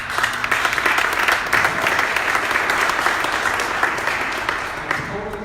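Sustained audience applause fills a business talk venue, dense and steady throughout, easing slightly near the end with no voices standing out.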